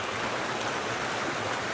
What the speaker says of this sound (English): The creek is running briskly this morning.